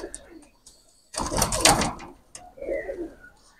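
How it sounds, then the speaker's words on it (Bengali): Royal Teddy female pigeon, a short burst of close fluttering and cooing in the middle, with quieter soft coos and small rustles before and after in an otherwise quiet space. "এই একটা রয়্যাল টেডি মাদি কবুতর, সিঙ্গেল মাদি কবুতর"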